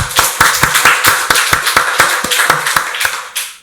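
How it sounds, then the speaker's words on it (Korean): A short burst of applause, a church congregation clapping during a Sunday worship service in quick, fairly even beats for a few seconds before it stops. "박수로 하나님께 영광 돌리겠습니다"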